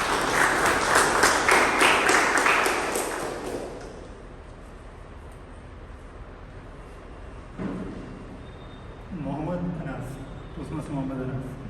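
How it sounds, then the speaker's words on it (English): Audience applause welcoming the Toastmaster at a club meeting, a dense burst of clapping for about four seconds that fades out, followed by quieter room sound and a voice beginning to speak. "So a huge round of applause and welcome Toastmaster."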